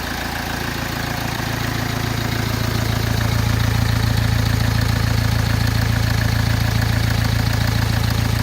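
A Kia car engine, previously damaged by a kangaroo, idles steadily just after its first start, a loud, even, continuous hum that grows slightly louder over the opening seconds and then holds constant, with no voices.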